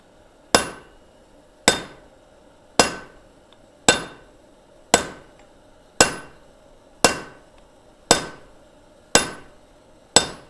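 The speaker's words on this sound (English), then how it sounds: "I'm using this smaller set hammer to concentrate the hitting energy of Thomas's big hammer there." Ten sharp, ringing metal strikes at a steady one-per-second rhythm as a big hammer drives a smaller set hammer during blacksmith forging of a shank, each blow loud and close with a quick decaying ring.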